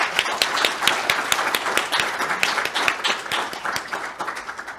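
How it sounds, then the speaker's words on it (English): An award session audience claps for the poster presenters at a research showcase, a sustained, even burst of many hands applauding together, moderately loud and without talk. "Let's give a big round of applause to all the poster presenters today."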